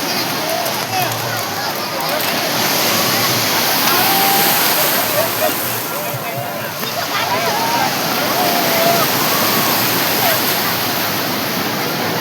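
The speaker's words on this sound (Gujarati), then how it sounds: "દોસ્તો અત્યારે ફૂલ મોજા મારે છે પાણી" Sea waves crash and surge at Madhavpur beach. A loud, continuous roar of churning surf with splashes runs throughout, and people talk over it.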